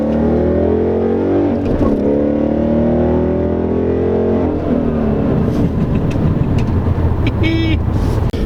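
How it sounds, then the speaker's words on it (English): A 2016 Ford Mustang GT with an aftermarket exhaust rumbles loudly from close by, a deep droning V8 note that climbs in pitch as it revs and accelerates, then settles into a rougher roar. "Did I mention it's got an exhaust?"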